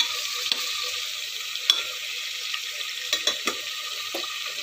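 Ingredients fry in a pan until lightly browned for homemade bisi bele bath, giving a soft, steady sizzle broken by a few sharp clinks and scrapes from stirring.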